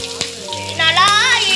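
Ginger garlic paste hits hot oil in a pan and sizzles loudly and close, the frying hiss swelling after a brief stir, for a chicken sambal with ghee rice.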